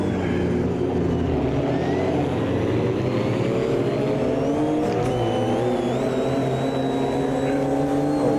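A Porsche 935/78 turbo race car engine in the AMS2 racing video game roars continuously and loud, revving upward in pitch with gear changes and turbo whine throughout.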